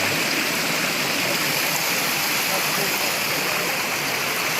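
Steady rushing water of a river in Montalban, Rizal, a continuous broadband wash that stays constant and fairly close throughout, with no other sounds standing out.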